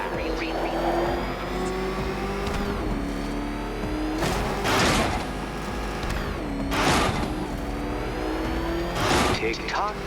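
Batmobile engine in Batman: Arkham Knight, a steady mechanical engine drone rising in repeated revving surges with bursts of whooshing, heard under a game voice talking throughout.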